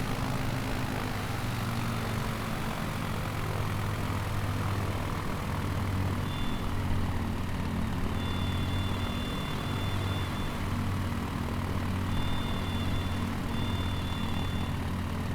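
Steady propeller-engine drone of a light aircraft in Microsoft Flight Simulator 2020, full flaps set for a near zero-speed STOL takeoff, holding a constant loud hum throughout with no voices.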